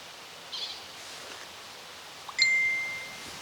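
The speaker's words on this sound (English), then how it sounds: "My phone's giving me the ping of approval." A phone notification ping at a lakeside carp fishing spot: a short, bright electronic tone at about 2.4 s that rings briefly and fades, preceded by a faint chime, over quiet outdoor ambience.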